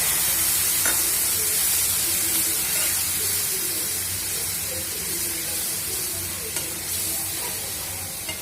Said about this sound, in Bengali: এবার এটা মশলাটা আমি ভালোভাবে কষিয়ে নেব।